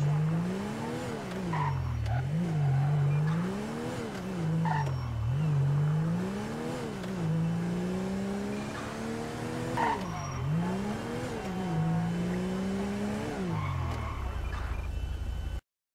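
Repeated squeaking car brakes in GTA V, a sustained engine tone rising and falling in pitch over several slowdowns, loud and up close with no talking.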